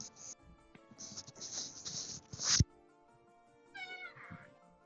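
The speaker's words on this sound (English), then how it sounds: "It was a kitty." A cat meows loudly and insistently, with a drawn-out, strained cry that cuts off abruptly, followed by a shorter, fainter meow after a pause.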